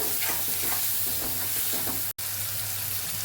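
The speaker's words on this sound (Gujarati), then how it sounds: "અને હવે આપણે આ બધા મસાલાને ટમેટા સાથે એકદમ મિક્સ કરી દઈશું હવે ટમેટાને આપણે ચડવા દઈશું" Spices being stirred into tomatoes cooking in a pan for a dhaba-style sev tomato curry, a steady sizzle with soft rhythmic scraping strokes, close and continuous, broken by one brief dropout.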